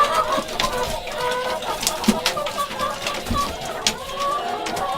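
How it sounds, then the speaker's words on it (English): Agitated chickens cluck and squawk in a coop on the morning after clocks were set back an hour for daylight saving time, a fairly close, continuous chorus of overlapping calls with no talking. "I don't know if everybody can see the chickens here, but they're kind of mad."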